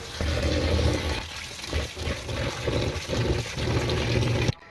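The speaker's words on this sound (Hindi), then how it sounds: "आप इसमें अच्छी तरह से पानी डाल लें" Water gushes and splashes steadily into a bowl close by, a continuous rushing pour that stops abruptly at the end.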